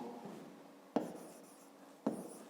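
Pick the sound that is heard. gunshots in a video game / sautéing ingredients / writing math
writing math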